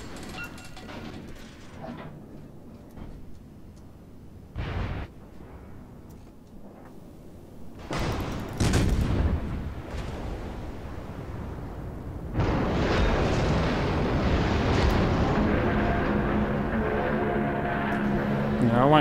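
Booming naval gunfire in the video game World of Warships, with heavy blasts at irregular intervals, one sharp report early, then clustered salvos, and a sustained roar of engine and water noise taking over in the latter part.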